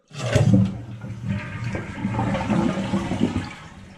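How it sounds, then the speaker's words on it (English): A household toilet that won't flush properly is flushed, the water valve just turned off, giving a loud close rush of draining water that swells at once and then slowly fades. "So we're going to flush the toilet."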